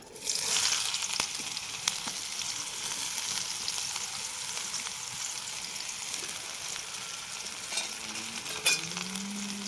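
Hot oil sizzles in a pan, a steady broadband hiss held at an even level for the whole stretch, with a few faint clicks and no talking.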